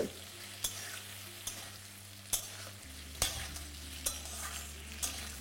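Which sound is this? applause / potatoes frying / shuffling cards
potatoes frying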